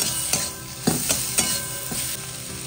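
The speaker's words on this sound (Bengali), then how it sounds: "এবার মশলাটা হালকা মানে একসাথে মিশিয়ে নিয়ে একটু ভেজে ভেজে নেব।" Spices with turmeric and salt frying in a pan for an egg curry, a constant close sizzle with several short spoon scrapes and taps as the mixture is stirred, no voices.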